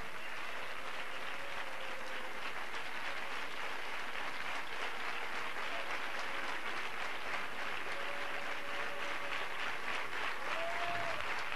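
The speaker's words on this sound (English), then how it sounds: "give the Lord a hand clap" Church congregation clapping hands together for the Lord, a dense, sustained wash of applause with a faint melodic tone weaving underneath, steady throughout with no speech.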